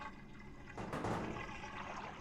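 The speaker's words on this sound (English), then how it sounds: "that is the sound of walking through something that is noticeably thicker than water" Footsteps wade through sludge noticeably thicker than water in the video game Deadly Premonition, at a lonely lumber mill, making a close, wet, sloshing churn that swells midway and then settles into a murky, gurgling drag.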